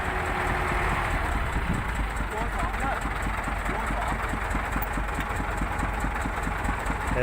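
A small Thai farm tractor of the walking-tractor type idles steadily in a muddy field. The close engine hum is loud and constant, with a regular chugging pulse running beneath it.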